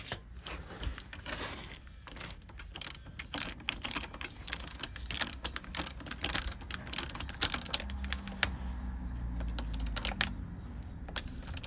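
Ratchet tightening brake caliper bolts on a Honda VFR400 NC30 motorcycle under restoration, a steady run of quick clicking strokes close by, with a few louder knocks, no talking.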